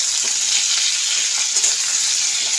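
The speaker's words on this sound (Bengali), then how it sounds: "তা আলুগুলো ভাজা হচ্ছে, তার মধ্যে একটু হলুদ গুঁড়ো আর একটু নুন" Potatoes fry in oil with turmeric and salt while being stirred, producing a close, steady crackling sizzle with small pops and faint scraping, continuous and loud with no voices.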